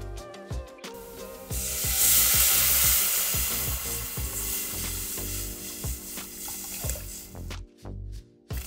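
Water poured into a pan of sautéed spices for nasi kebuli sets off a loud burst of sizzling and bubbling, with clattering stirring strokes, settling into a steady simmering hiss that cuts out briefly near the end.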